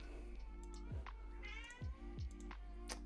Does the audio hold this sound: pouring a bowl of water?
no